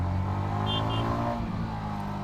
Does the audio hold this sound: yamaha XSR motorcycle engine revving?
yes